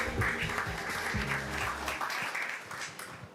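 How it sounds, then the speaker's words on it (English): Applause from a crowd, a dense patter of many hands clapping steadily for a few seconds at moderate distance. "Let's give a round of applause."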